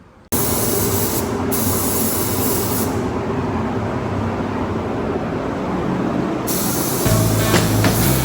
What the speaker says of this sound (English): get in here and start spraying some primer.